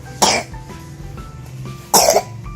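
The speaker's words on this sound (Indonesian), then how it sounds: "aduh, ini batuk." A child coughs twice, two sharp bursts about a second and a half apart, close and fairly loud indoors with a quiet background between them.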